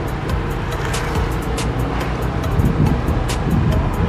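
A Yamaha RX100 two-stroke motorcycle ridden hard by a mechanic, heard as a steady loud rush of engine drone and wind noise throughout, with no pauses and no talk.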